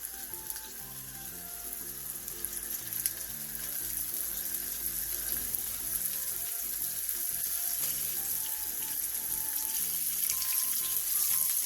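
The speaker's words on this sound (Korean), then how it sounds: "팬에 기름을 넉넉하게 두른 뒤 고등어를 올려 중약불에서 구워주세요" Mackerel sizzles steadily in a pan with plenty of oil over medium-low heat, a constant crackling fry that holds unbroken, with a faint tonal hum underneath.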